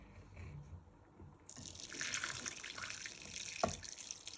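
Soaked dates and their warm soaking liquid poured carefully into a bowl for sticky toffee pudding, a steady close splashing trickle starting partway through with a brief louder splash near the end, no talk.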